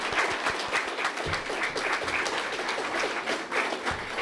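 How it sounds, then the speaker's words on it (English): An audience at a hospital geriatric unit event gives a big round of applause, many hands clapping steadily and close for about four seconds, with no voices on top. "can we have a big round of applause?"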